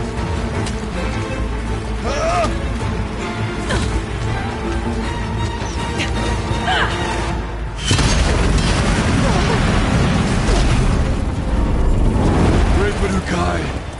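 Explosive ammo blasts go off in Horizon Zero Dawn, heavy booms and crackling bursts building into a loud, dense roar, with voices talking over the action.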